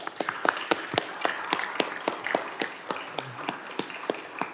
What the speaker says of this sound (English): if we could all give her a round of applause.